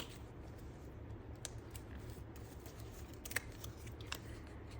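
Scissors snip through paper ephemera for a glue book, giving faint, sparse little cuts at a steady low level with no one talking.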